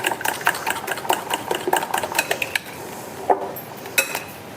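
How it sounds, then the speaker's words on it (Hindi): Rose cookie batter whisked briskly in a bowl, a quick run of close, clinking metal-on-bowl taps and scrapes, fairly loud and steady, with no talking. "देखिए मैं इसे फेंटती जा रही हूँ, बस इसे बहुत अच्छे से मिक्स कर लेना है।"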